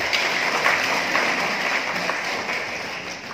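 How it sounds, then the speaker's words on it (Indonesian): Audience applause at a government speech during an official inauguration ceremony in Jombang, a dense steady wash of many hands clapping that fills the clip and slowly tapers toward the end. "Tepuk tangan untuk kita semuanya."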